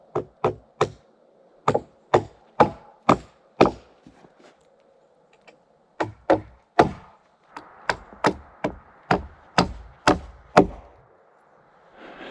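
Sharp, close hammer blows driving rafter ties onto floor joists and a beam during an off-grid cabin build, struck in quick bursts of several hits with short pauses between them.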